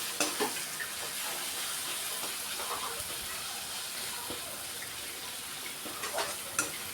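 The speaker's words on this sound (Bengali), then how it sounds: "এর জন্য গ্যাসের হিটটা কম রেখে বারবার ঢাকা দিয়ে আমি এটা কষিয়ে নিচ্ছি টমেটো" Tomato, onion and green chilli cooking slowly on low gas heat in a covered pan, giving a continuous soft hissing sizzle with a few faint stirring clicks.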